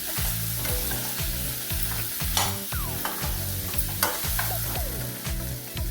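Small baby potatoes being stir-fried in a pan, a busy sizzle broken by repeated scraping, clattering strokes of a spatula as the pieces are tossed and turned, close and loud.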